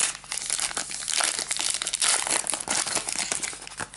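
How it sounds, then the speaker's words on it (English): A Magic The Gathering booster pack wrapper, Signature Spellbook: Jace, being torn open: close, continuous foil crinkling and ripping for about four seconds, dense and uneven, with no voices. "let's just crack the pack for the cards"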